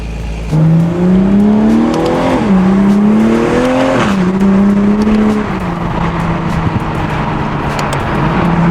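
Engine of a Toyota A91 Supra revving hard while driving at night, climbing through gears with rising pitch and brief drops between shifts, loud and close, no talking.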